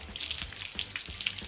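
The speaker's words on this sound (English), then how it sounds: "you take the hose pipe and you just wash the excess soap off" A garden hose spray rinses excess soapy water off a fishing reel during tackle cleaning, giving a steady close hiss of running water with small splashes and drips throughout.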